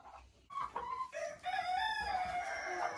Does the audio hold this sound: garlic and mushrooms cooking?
no